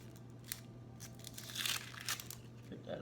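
Outer skin being peeled off an onion by hand in a home kitchen, giving a few short dry tearing and crinkling rustles over a steady low hum, close and fairly quiet, with no talk.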